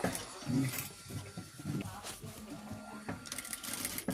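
Sewing machine stitching an embroidered blouse with piping, running in a steady mechanical whir with short pauses as the fabric is turned.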